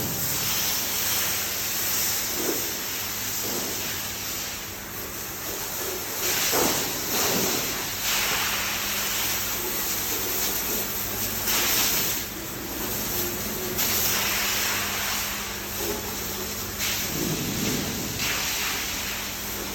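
A hose sprays a steady, hissing stream of water to wash manure off the rails of a dairy milking shed, continuous and fairly loud throughout with slight swells in intensity.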